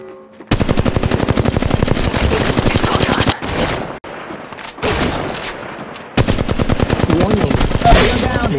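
Apex Legends Mobile gunfire comes as long, loud, rapid automatic bursts, with a brief gap and then a shorter burst of shots, all close and dominant.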